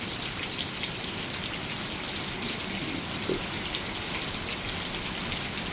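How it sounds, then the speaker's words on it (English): Rain falls steadily under a grey sky, a dense, even hiss of water that holds at the same level throughout with no voices. "There's the proof it's raining."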